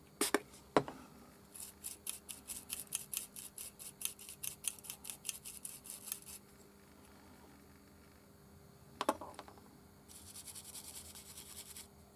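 Rapid, rhythmic scratching strokes close up, a steady series of brisk scrapes on the battery contacts of a Braun thermometer with a POS fault, then a pause, a sharp click and a final burst of rubbing.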